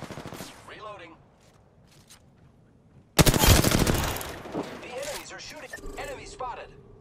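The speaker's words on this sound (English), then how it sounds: "The enemies are shooting." Enemy gunfire erupts in a video game firefight, a sudden loud burst of rapid shots that keeps rattling and fades over several seconds, with in-game voice callouts before and after.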